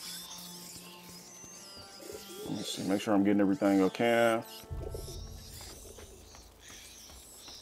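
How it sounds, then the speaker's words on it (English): Pigeon in the video game A Plague Tale: Innocence gives a run of loud, close, throaty coos in a rhythmic burst lasting a couple of seconds, with someone talking before and over it. "I hear, is that a pigeon?"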